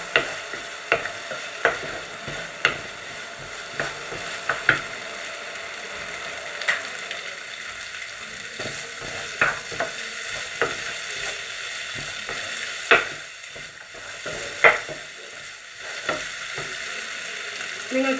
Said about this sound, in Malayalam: നമ്മൾ ഇളക്കി കൊടുക്കാം